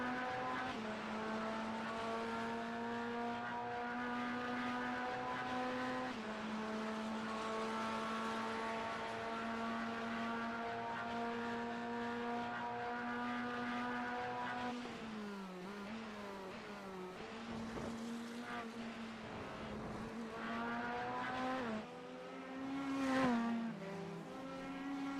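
GT3 race cars in the iRacing sim at Road Atlanta drone down the long straight, a steady loud engine whine with gear shifts and a brief tire scrub near the end, no voices over it.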